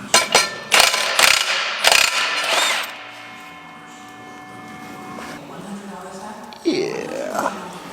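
A ratchet tightens a nut on a John Deere planter, several loud close bursts of clicking pawl in quick succession, then a quieter stretch and another brief burst, with people talking nearby.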